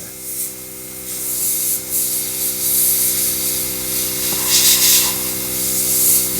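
Airbrush spraying Tamiya acrylic paint onto a model Messerschmitt 109K kit from a few millimetres away, a continuous soft airy hiss that swells in short passes over a steady low compressor hum, close with no talk.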